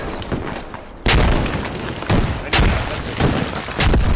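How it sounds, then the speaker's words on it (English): Grenade blasts in the tactical shooter Squad on the Potato Fields map: several loud, heavy booms strike in quick succession, each a sharp crack followed by a rolling rumble, close and dominating the scene. "Throw a nade inside."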